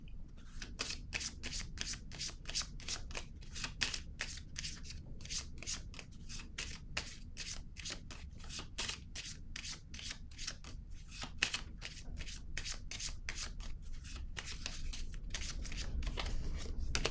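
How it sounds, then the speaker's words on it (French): Oracle cards are shuffled and drawn in a steady run of quick crisp riffles and slaps, close and continuous, with no voice over them. "Je vais piger une autre carte."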